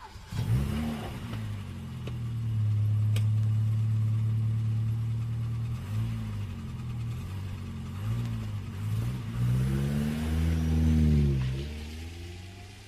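A car engine idles and then revs, rising and falling as the car pulls away, loud and steady in the foreground with a few shifting surges near the end, no voices.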